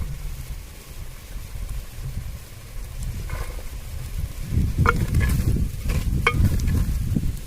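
Peas tipped into spiced masala frying in a clay pot, giving a steady low sizzle that swells into louder crackling and scraping bursts toward the end, with no talking.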